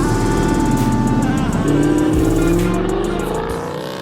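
A 2018 Dodge Charger Scat Pack engine revs loudly and steadily for a few seconds, its pitch climbing partway through, then eases slightly near the end with no talking.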